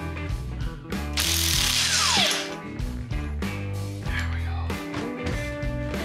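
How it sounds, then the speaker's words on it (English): A ratchet wrench tightening bolts down to torque spec, close and crisp, with bursts of rapid clicking separated by short pauses and some clanking of metal parts. "then we'll torque them down to specs"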